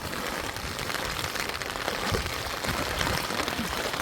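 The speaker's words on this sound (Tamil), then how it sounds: "மழை பெய்யுது" Rain falls steadily over a flood-threatened village at Manalkadu during the monsoon, a dense, even hiss that holds at a constant level for the whole stretch without pauses.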